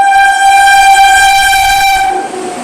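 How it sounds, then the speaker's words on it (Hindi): Howrah Rajdhani Express passing through Tundla Junction sounds a loud, sustained horn, a steady multi-tone blast that holds for about two seconds and then cuts off, leaving a fainter rumble of the train. "तो ये लो भाई, आ गई अपनी हावड़ा राजधानी एक्सप्रेस।"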